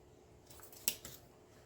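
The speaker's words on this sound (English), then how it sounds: "So let me cut this tail." Scissors cutting a ribbon tail for a Christmas mesh wreath: one crisp, close snip followed by a smaller second snip, in a quiet room.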